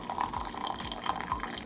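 Liquid pours into a liver of sulfur bath for darkening handmade metal jewelry, a soft, steady trickling splash with faint drips, close and fairly quiet.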